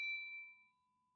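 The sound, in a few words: notification bell ding sound effect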